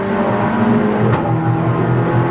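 Golf TDI and Audi TT TFSI race cars circulate at Silverstone GP during a Britcar Trophy race, engines droning loudly with a brief sharp shift in pitch midway, no voices.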